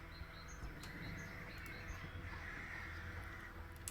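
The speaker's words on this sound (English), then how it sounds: "I guess the Syrinscape is currently making crow noises." Crows cawing from Syrinscape sound-effects ambience, several short caws repeating over a steady, noisy background hiss.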